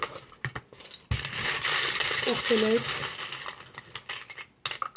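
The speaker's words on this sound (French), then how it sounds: "Allez, on va prendre les petites breloques." Small divination charms clink and rattle as they are handled and dropped onto a surface, a jangling metallic shuffle over a few seconds, with a voice speaking around it.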